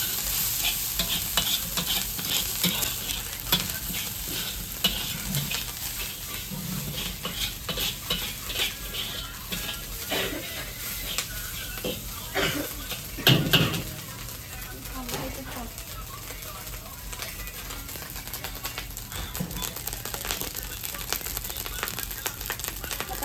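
A spoon stirs dark soy sauce and red chili sauce through food in a hot pan, giving steady scraping and sizzling with occasional clinks of utensil on metal, while a voice speaks now and then.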